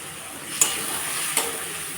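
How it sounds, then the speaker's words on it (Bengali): Potatoes being sautéed in a pan give a steady close hiss of frying, with two brief scrapes or clinks from stirring and no voices. "যে আলুটা কষিয়ে নিচ্ছি"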